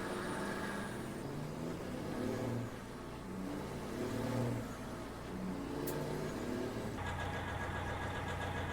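Three grain-hauling trucks driving in Farming Simulator 19, a steady engine drone with rising and falling revs and gear changes, a shift in engine tone near the end, continuous and moderately loud with no voices.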